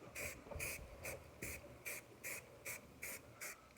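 Aerosol spray can laying down a light dust coat of paint, a series of short, close hissing bursts in a steady rhythm, about eight or nine puffs with brief gaps between, clear and alone without talk.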